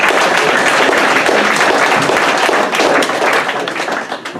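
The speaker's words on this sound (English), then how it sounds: "So a big round of applause for everyone." An audience at an EMS banquet breaks into dense, loud applause that carries on for several seconds and then thins out toward the end.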